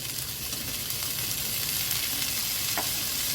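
Chwinamul, seasoned aster greens, stir-fried in a little cooking oil: a dense, continuous close sizzle with soft stirring noises and no talking.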